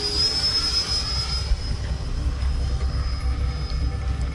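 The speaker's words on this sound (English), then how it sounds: "This plane just flies so good" A Freewing F-5N Tiger II RC jet with an 80mm electric ducted fan flies by, giving a steady, loud rushing roar with a high whine running through it. The sound holds level for the whole stretch, with no talk over it.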